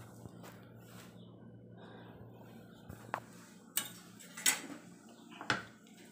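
A lid set onto a pancake pan gives a few sharp metallic clinks that grow louder toward the end, over a quiet background hum.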